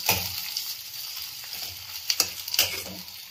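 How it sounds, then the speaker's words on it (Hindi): Paneer, onion and capsicum fry lightly in a pan, a close steady sizzle punctuated by a few quick spatula scrapes and taps toward the end. "इसको हल्का सा फ्राई करेंगे"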